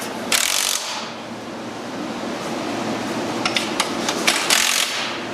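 A wrench clicks and ratchets while tightening the bolts on a Track N Go track during installation, with short bursts of rapid metallic clicks over a steady background hiss and rumble.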